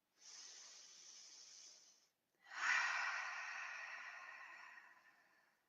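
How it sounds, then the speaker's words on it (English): Close, airy breathing: a long, deep breath drawn in, a brief pause, then a second, longer and stronger breath that slowly fades. No one speaks. "Take a moment and take a deep breath in."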